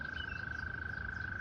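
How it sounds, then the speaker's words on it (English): Frogs at a drainage pond behind houses keep up a steady, high, continuous trilling chorus, moderately distant and unbroken, with faint outdoor background and no talking. "but you can hear the frogs singing."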